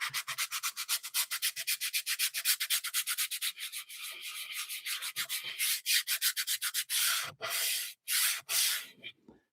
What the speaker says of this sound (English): lightly sanding the edges so you kind of take off any of that sharp edge feeling